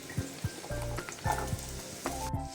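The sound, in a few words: onions frying in oil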